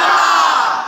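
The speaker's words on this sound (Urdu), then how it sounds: "ماحول ابھی تک گرم ہے, اس لیے اللہ رسول اور صحابہ کے نعرے" A large crowd shouting a religious slogan in unison, one loud sustained roar of voices lasting about a second, close and dense.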